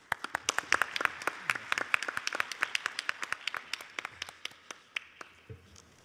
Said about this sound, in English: please welcome the mayor with a big round of applause